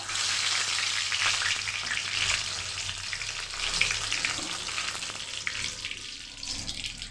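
Dried chili and a bay leaf sizzle in hot mustard oil in a wok, giving a steady, close crackling hiss with no talking.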